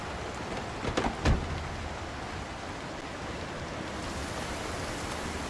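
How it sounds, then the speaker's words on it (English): Steady rain from the survival video game Project Zomboid, a constant broadband hiss that stays even throughout, with a couple of brief soft thumps near the start and no talking. "Actually, that rain's kind of loud."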